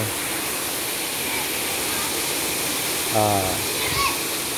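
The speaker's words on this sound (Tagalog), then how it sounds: "So again, this is the Busay Falls" Busay Falls in Tudela on Camotes Island pours with a steady, broad rushing roar, and a brief voice rises over the water near the end.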